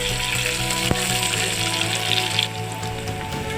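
Onion and chilli fry in a pan for a kart fish curry, making a loud, continuous close-up sizzle with a low hum underneath and a sharp tap early on.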